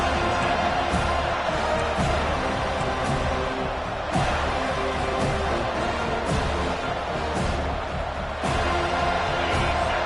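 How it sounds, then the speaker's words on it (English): A football stadium crowd at an Auburn vs FSU game roars in a steady, dense wash that runs through the whole stretch, with a few sharper swells and thumps along the way. "This crowd, full throat, splitting the eardrums"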